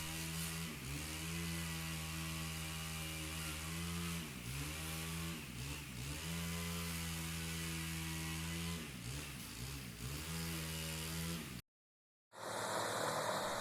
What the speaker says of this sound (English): The operator steers carefully, letting the 350 horsepower machine churn through debris.